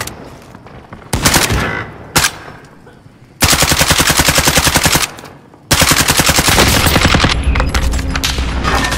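Rapid automatic gunfire in Call of Duty Warzone, loud bursts of several seconds separated by brief pauses, with sustained firing dominating the second half; no talking.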